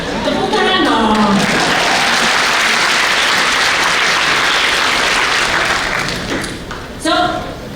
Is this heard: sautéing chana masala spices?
no